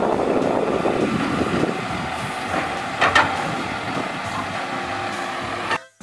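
A toy garbage truck gives out a whirring engine rumble with an air-brake-like hiss and a few sharp clicks, fairly close, before it cuts off abruptly near the end.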